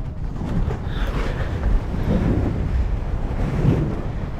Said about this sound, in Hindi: ये पूरा समंदर इधर पे।